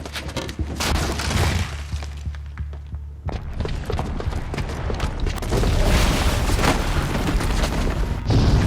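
A bomb's booby trap goes off in Horizon Zero Dawn: loud booming blasts with shattering debris and rumbling, continuing dense and heavy throughout, with no talk.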